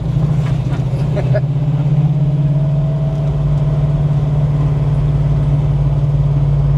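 A 1970 Plymouth Cuda 340 with a 4-speed manual drives along. The engine gives a loud, steady low drone throughout, with brief knocks and a faint whine over it.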